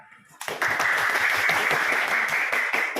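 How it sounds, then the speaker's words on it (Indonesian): A class of students applauds group 1 after their presentation, the clapping starting abruptly and holding steady as a dense, close burst of many hands. "kita berikan tepuk tangan"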